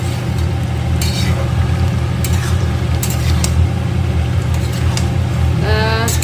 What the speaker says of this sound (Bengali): সেদ্ধ যেহেতু প্রায় হয়ে এসেছে কিছুটা নাড়াচাড়া করে